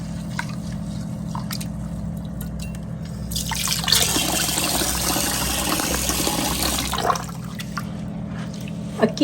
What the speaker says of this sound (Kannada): ಒಂದು ಎರಡರಿಂದ ಮೂರು ನೀರಲ್ಲಿ ಕ್ಲೀನಾಗಿ ತೊಳ್ಕೊಬೇಕು ಅಕ್ಕಿಯನ್ನು